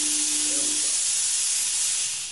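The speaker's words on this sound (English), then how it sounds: "Give me a little smoke and mirrors up in here." A studio smoke machine releases smoke as a loud, steady, broad hiss that runs continuously and fades slightly at the end, with a faint tonal whine near the start.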